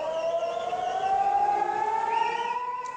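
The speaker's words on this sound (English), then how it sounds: "Mobile phone footage shot in Jerusalem showed people slowly taking cover as sirens wailed across the city." Air raid sirens wail across Jerusalem, a steady rising electronic tone with layered harmonics, loud and continuous throughout, with no voices.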